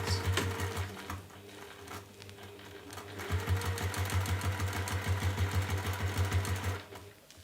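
A sewing machine stitches a bag in bursts of rapid rhythmic chattering, pausing briefly near the start before a longer steady run that stops near the end.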